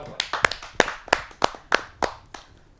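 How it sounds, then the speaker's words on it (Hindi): Sparse applause for a poet at a kavi sammelan, around eight distinct sharp claps spaced irregularly across a few seconds, fairly close and thin, with no voices. "आप सबकी जोरदार तालियों के साथ"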